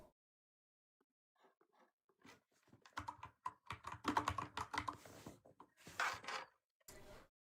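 Rapid typing on a computer keyboard, bursts of clattering keystrokes that start sparse and build into dense, fast runs, close and clear with brief pauses and no talk.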